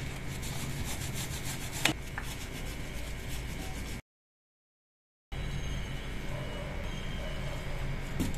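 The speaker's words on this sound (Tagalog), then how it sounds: "I-brush ko lang yon at lalagyan ko ng grasa, no, para madulas siyang ilalagay mamaya." Steady rubbing and scrubbing as a brush works over an alternator bracket on a 4A-GE Blacktop engine before grease goes on, continuous and close, with a short silent gap midway and no talking.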